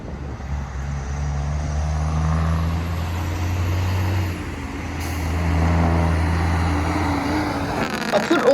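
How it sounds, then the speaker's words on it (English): A Freightliner truck's engine brake rumbles loudly in deep, throbbing pulses that fade briefly and then return, with road traffic noise around it. "Lovely engine brake."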